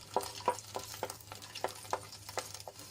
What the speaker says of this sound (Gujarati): લસણને આપણે થોડુંક લાલ થાય ત્યાં સુધી સાંતળી લેવાનું છે